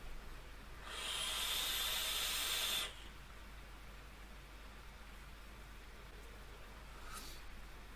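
Vaping on an Apocalypse RDA V2 atomizer at 90 watts with the airflow fully open, one long, airy hissing draw of about two seconds, then quiet and a faint brief hiss later.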